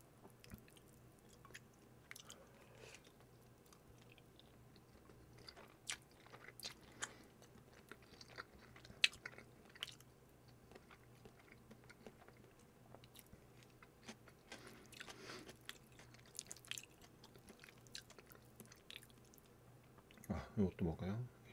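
Close-up chewing and biting while eating a homemade Korean meal of mushroom Toowoomba pasta and tomato meatballs, soft wet crunches and smacks scattered through a quiet room with a steady low hum, denser bites near the end.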